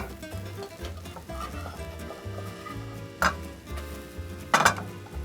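Ricotta pancakes are flipped in a pan: soft scraping and stirring, a couple of sharp clinks of a utensil against the pan over a faint steady sizzle, fairly quiet and close.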